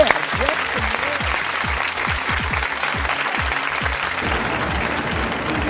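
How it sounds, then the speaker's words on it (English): Audience applause after a stage performance, steady dense clapping held at an even level throughout, with faint voices mixed beneath. "Let's give Jeff a hand clap."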